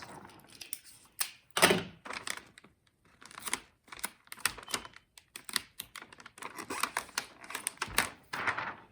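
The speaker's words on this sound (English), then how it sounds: "Secure it with some tape." Adhesive tape pulled from a roll and pressed onto a gift package in several quick ripping bursts, some short and some drawn out, with brief quiet gaps between them, close up and with no voices.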